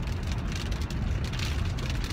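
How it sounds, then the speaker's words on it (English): Rain beats on a car during a road trip near the Mississippi River, a dense, constant patter with road rumble and wind noise underneath, steady and close throughout the short stretch. "It is raining."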